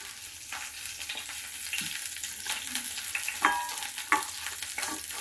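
Egg frying in a pan for breakfast with paratha, giving a steady soft sizzle with scattered scraping and stirring clicks and a few sharper utensil knocks, close and moderately quiet.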